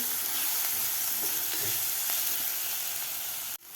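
Chopped tomato sautés in a pan with onion and thecha chili paste, a steady, close sizzle that cuts off abruptly just before the end.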